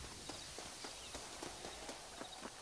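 Horse hooves clip-clop steadily in Red Dead Redemption, a regular trotting rhythm of soft thuds over a constant background hiss.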